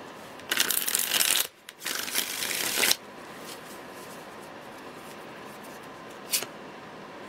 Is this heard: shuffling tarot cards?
yes